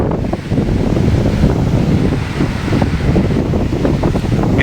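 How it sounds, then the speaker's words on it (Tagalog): Strong wind gusting across a beach front on Boracay island, a loud continuous rumbling roar buffeting the microphone, with possible surf mixed underneath and no voices. "Medyo humangin siya guys"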